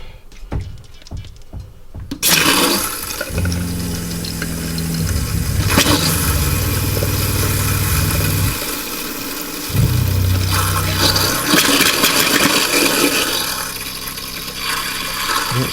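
The bathroom sink faucet in a Rockwood 2509S RV runs antifreeze during winterizing: a sudden loud rush of flow starts after a quiet opening and continues steadily over a low pump hum.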